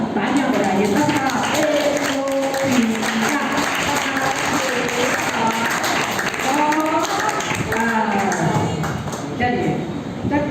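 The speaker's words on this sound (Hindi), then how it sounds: "उनके लिए 5वें साल के जन्मदिन के लिए जोरदार तालियां बजाइए सबका।" A congregation claps for a child's fifth birthday during a church gathering. Steady clapping runs throughout, with voices talking and singing over it.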